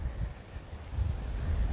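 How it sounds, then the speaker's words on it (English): Wind blows steadily across a microphone outside a brick waterfront home in Panama City, Florida, a low rumbling buffet with no voices. "And it is a little bit windy out here."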